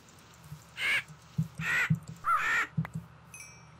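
A raven in the Minecraft FTB modpack gives a series of harsh caws, about four distinct calls spaced through the moment, fairly close and clear over quiet game background noise.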